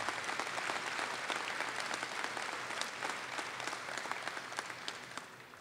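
Audience applause at a military appreciation day ceremony in Missouri, steady dense clapping from a large crowd heard somewhat distant and faint, gradually tapering off.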